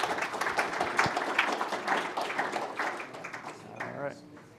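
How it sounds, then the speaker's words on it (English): Audience members at a Salt Lake County watershed symposium applaud panel speakers. The clapping is brisk and crowded at first, then thins and fades as a voice begins talking. "Give them a round of applause"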